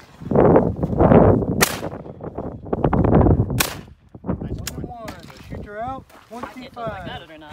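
Shotgun reports on a FITASC sporting clays parcours at Coyote Springs, Arizona, a few sharp bursts spaced through the first seconds, followed by people chatting and calling out near the shooting station.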